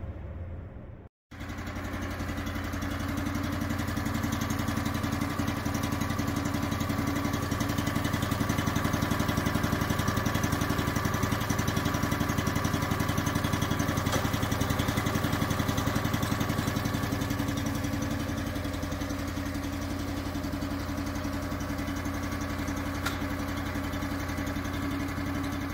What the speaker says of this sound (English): start the engine, and the winch will engage it automatically